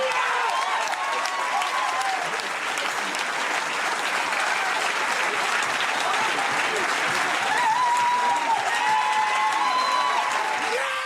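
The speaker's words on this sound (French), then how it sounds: "Gagnant, sous vos applaudissements," An audience applauds the winner of a windscreen replacement championship, a sustained, even wash of clapping with light cheering mixed in, filling the room throughout.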